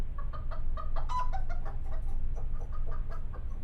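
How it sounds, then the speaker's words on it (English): Pet chickens cluck in short, scattered bursts close by, several birds overlapping over a low steady background rumble, no voices. "Our chickens, Henny, Penny, and Maxine."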